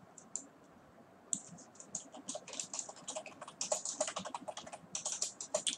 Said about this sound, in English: I'm sorry, I'm typing pretty bad these days.